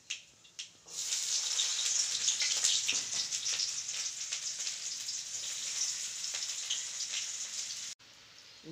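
Onion frying with kalonji in hot oil in a kadai: after a couple of soft knocks, a bright, steady sizzle starts and holds for several seconds, then cuts off abruptly, with no voices.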